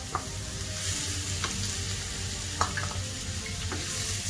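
A tomato frying in a pan for an omelette while it is stirred, with a steady close sizzle and scattered spatula scrapes and taps and no talk.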